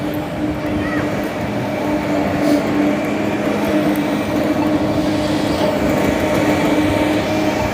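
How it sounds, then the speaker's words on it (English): Subway train at a downtown New York City station, a loud steady rumble and hum of the moving train with metallic tones sustained throughout. "You got the train station."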